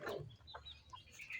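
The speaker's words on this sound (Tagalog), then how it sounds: "merong naligaw na manok" Short, faint clucking from a chicken in a backyard poultry pen kept with laying ducks, a few soft calls over low rumbling background noise.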